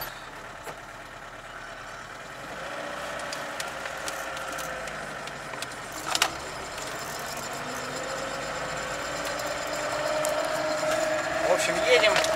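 A 1999 VAZ 2104 Lada runs and drives with a steady, continuous engine drone whose pitch climbs gradually as it accelerates through the gears, staying moderately loud throughout.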